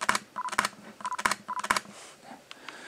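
A Nikon Z50 mirrorless camera fires its mechanical shutter in single-shot mode, several crisp separate clicks spaced about half a second apart, close and loud in a quiet room.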